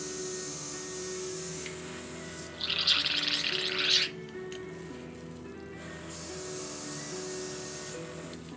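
Airbrush spraying in short bursts while being cleaned after paint use, a close hissing burst lasting about a second and a half, with quieter gaps and a steady low hum around it.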